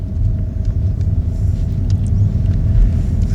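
Car engine labouring uphill, a steady loud low rumble that swells slightly as it strains to rev, with no talk over it.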